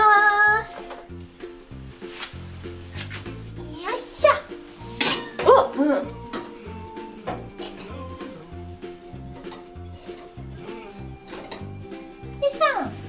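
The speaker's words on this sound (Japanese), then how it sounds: "今から20分をオーブンの方に入れたいと思います。 では、入れます。" Kitchen clatter of pans, dishes and metal as a herring pie is put into the oven, with clinks and knocks scattered through, a louder cluster in the middle, and someone speaking Japanese throughout.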